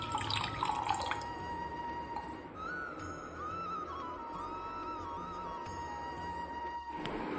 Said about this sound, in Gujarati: હવે આ રીતે એક આખો ગ્લાસ ભરીને આપણું નાળિયેરનું પાણી નીકળ્યું છે